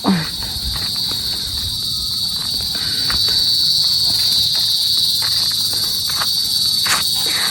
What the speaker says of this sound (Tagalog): Malakas po ang kuliglig dito po sa may kubo.